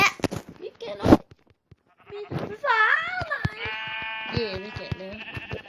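Sheep bleating in the Minecraft video game, a few wavering calls in the second half, fairly close and clear, with talking over parts of it.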